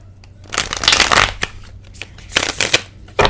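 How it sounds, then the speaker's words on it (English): A deck of playing cards is shuffled, bursts of riffling and flapping in quick succession with short pauses between them, close and fairly loud. "We're gonna reshuffle"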